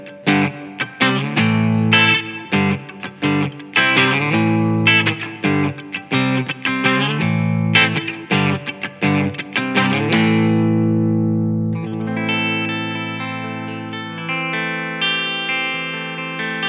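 Electric guitar played through a Marshall JVM205H tube amp with distortion and effects: choppy chords for several seconds, then a long ringing chord with heavy reverb.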